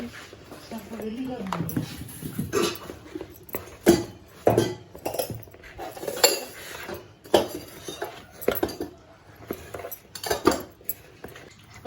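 Pakora batter with ajwain, turmeric and garam masala mixed in a bowl, irregular clinks and scrapes of a spoon against the bowl, close by, with someone talking throughout.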